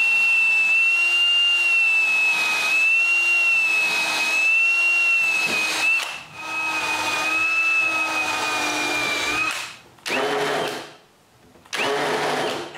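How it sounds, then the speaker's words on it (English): Drilling hinge holes in a wooden staircase gate: a steady, loud whirring drill runs continuously, pauses briefly, then returns in two short bursts near the end, with no talking. "I drill some holes for the hinges."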